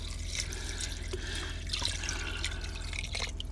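Water pours into an Instant Pot already holding ham hocks and beans, a steady splashing stream with small gurgles and drips over a low background hum inside an RV.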